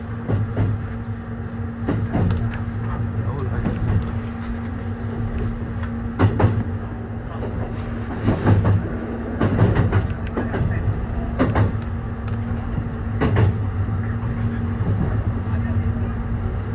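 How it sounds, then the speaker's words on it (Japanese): The limited express View Wakashio train bound for Tokyo runs along, a steady rumbling hum with a sustained tonal whine and occasional clunks, while someone talks over it. "この列車は特急ビュー若潮号東京行きです。"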